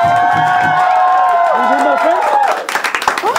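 A costume contest audience claps and cheers loudly, with shouts rising over sustained applause, then the clapping turns more scattered near the end.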